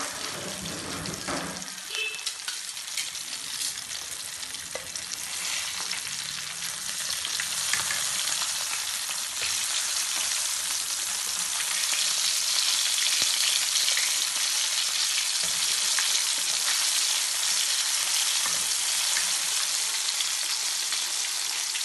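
Salmon and garlic fry in hot oil in a pan, a loud, steady sizzle close by that swells after the first couple of seconds and keeps crackling throughout.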